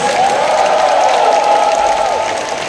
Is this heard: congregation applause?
yes